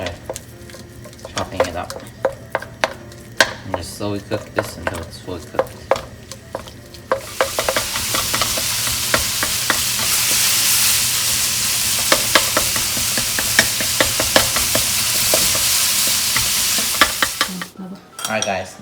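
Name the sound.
ground pork frying in oil in a wok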